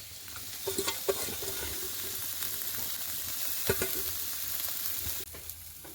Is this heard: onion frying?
yes